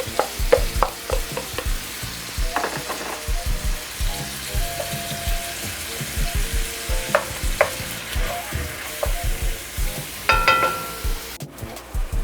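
Ground beef and onions frying in a single pan with garlic powder and onion powder, a steady close sizzle broken by repeated scraping and clacking stirs from a utensil, with no talk.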